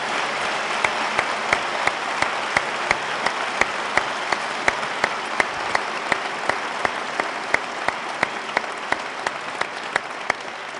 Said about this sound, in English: A round of applause for both gentlemen